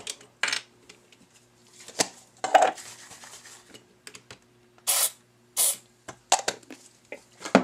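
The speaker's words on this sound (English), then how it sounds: "It may need 2 more sprays of lubricant and then some adjusting." Lubricant is sprayed onto a DaYan GuHong speed cube in several short, close hissing bursts, with light clicks and handling noises from the cube pieces in between.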